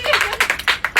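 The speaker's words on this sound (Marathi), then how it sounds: "परत एकदा काकांसाठी टाळ्या" A small group of people claps in a short burst of uneven hand claps, close and moderately loud.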